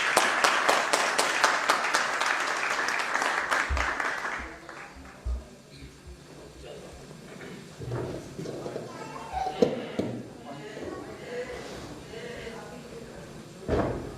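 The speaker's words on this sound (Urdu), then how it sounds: "تو آپ کی تالیوں کی گونج میں بلاؤں گا" Audience applause at a PTI fundraising event in Bristol: loud, dense clapping fills the hall for about four seconds, then fades into a murmuring crowd with scattered thuds and talk.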